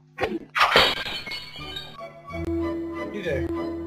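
A flower pot smashes in the video game Whack Your Boss: a sharp crash of breaking ceramic followed by scattering clinks and a ringing tone, with someone talking over it.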